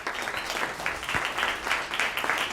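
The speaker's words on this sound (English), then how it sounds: "Round of applause for Ashley." An audience at a live recording event in Boulder, Colorado gives a speaker a round of applause, a dense, even wash of clapping that holds steady for a couple of seconds.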